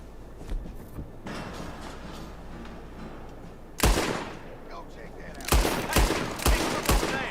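Gunfire in Red Dead Redemption 2: a single loud shot near the middle, then a quick cluster of several sharp reports toward the end, over a steady low rumble of game ambience.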